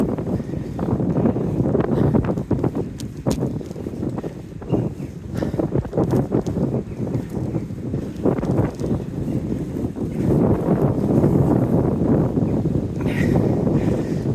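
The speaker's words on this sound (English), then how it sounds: "It's windy." Steady wind buffets the microphone while riding a Brompton folding bike through a village, a loud continuous rumble with gusty surges and rustling, and no talk.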